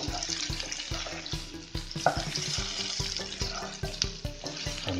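Cut spinach patra stirred in a hot pan, crackling and frying up close with a regular rhythm of spatula scrapes and knocks against the metal, no voices.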